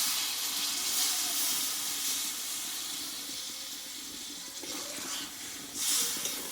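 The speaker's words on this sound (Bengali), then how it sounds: "এখানে জলটাকে দিয়ে দেবো" Water poured into a pan of cooking okra sets off a steady broadband hiss of steam and sizzle, heard close and fairly quiet, swelling briefly near the end.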